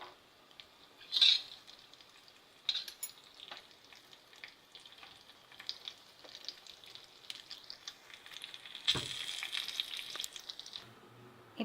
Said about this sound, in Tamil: பாயசம் நல்லா கொதிக்க ஆரம்பிச்சிச்சுங்க.